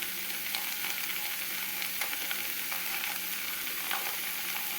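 Cauliflower fried rice with tomato sauce sizzles steadily in a pan, the frying hiss broken by scattered scraping and clicking stirring strokes.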